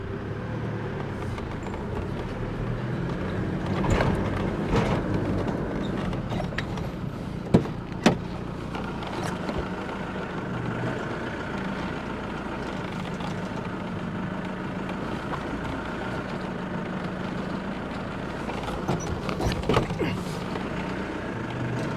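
Steady road traffic rumbles past at close range, with engines droning continuously and a pair of sharp knocks near the middle.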